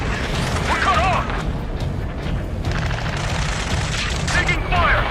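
Gunfire in the Ace Combat 7 video game, dense bursts of shots and booms crackling through a continuous loud battle bed, with urgent radio-style voices calling out over it.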